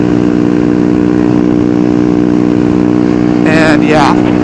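A Honda Grom motorcycle engine drones steadily at a constant pitch during a supermoto group ride, loud and close with wind noise, and a brief voice-like burst near the end.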